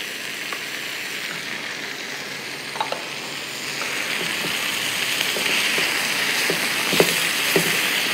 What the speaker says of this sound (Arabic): هناخذ الفلفل الألوان وحنحطه على البصل اللي عندنا هنا